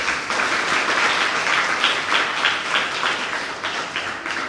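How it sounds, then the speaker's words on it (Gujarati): An audience claps for the children in steady, sustained applause from a crowd indoors, many hands beating in a dense, even patter that stays lively for several seconds with no talking over it. "સૌ બાળકોને પહેલાં આપણે તાળીઓથી વધાવી લઈએ"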